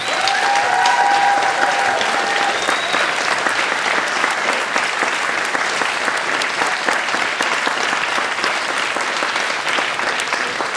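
Loud, sustained audience applause for young performers at a concert, dense clapping filling the whole stretch with crowd noise underneath.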